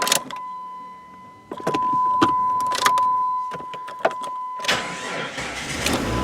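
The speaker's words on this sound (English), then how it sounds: "Yeah, it's still cranking super slow." Jeep Grand Cherokee 4.0 starter cranking slowly after a click and some chime tones, a sustained labored whir held for a few seconds, then the engine catches with a louder rushing roar near the end, close and fairly loud.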